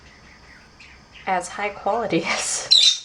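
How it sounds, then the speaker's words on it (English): Outdoor birds chirp and tweet in short high calls, clearest near the end, beneath someone speaking close by. "these birds are giving me a headache"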